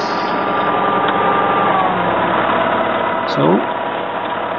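A tractor engine runs at a steady idle, loud and close throughout, with a brief rise in pitch near the end and a single short spoken word over it.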